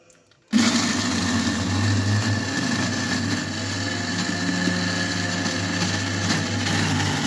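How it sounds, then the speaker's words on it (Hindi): An electric kitchen grinder chopping onions for gola kabab salan starts up after a brief quiet moment, then runs as a loud, continuous whirring roar close by with no voices. "प्याज को मैंने इसमें ग्राइंडर में डाल दिया है"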